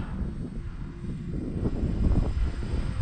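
A twin-engine X-Fly Twin Nova 1400mm RC airplane flies in crosswind, its propeller engines giving a steady buzzing drone with a gusty, rumbling wind roar that swells slightly toward the end.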